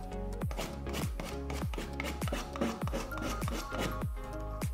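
A sharp knife scraping match heads into powder, a rapid series of rough, close strokes repeating in a steady rhythm.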